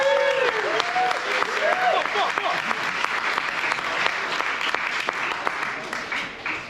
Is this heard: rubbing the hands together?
no